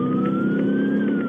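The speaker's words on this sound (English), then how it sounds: "Kicks on a siren." A police siren wails steadily close by during a police pursuit, a smooth rising tone over a low engine rumble, with no voices.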